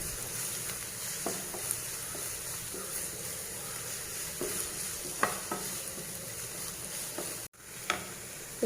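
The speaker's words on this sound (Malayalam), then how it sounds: "ഇത് നല്ലപോലെ നമ്മൾ ചെറുതായിട്ടൊന്ന് വഴണ്ടാൽ മതി" Cauliflower sautés with salt in a pan, a steady soft sizzle broken by occasional scrapes and taps of a spoon, fairly quiet and without speech.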